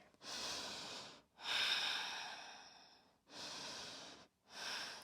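Slow, deep audible breaths during a vinyasa yoga flow, four long airy inhales and exhales with short pauses between, close and fairly soft.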